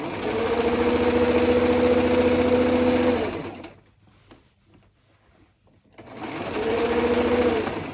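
Sewing machine topstitching an elastic waistband runs loud and steady for about three seconds, pauses through a quiet stretch, then starts up again near the end, its motor hum close and continuous.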